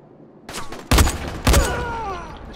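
Gunfire in the zombie game Dying Light: three sharp, loud gunshots ring out in quick succession, each leaving a short ringing tail.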